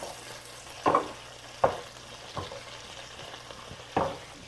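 A carbonara meat mixture sizzles in a hot pan and is tossed around, a steady frying hiss broken by four louder scraping stir strokes, close by, with no talking.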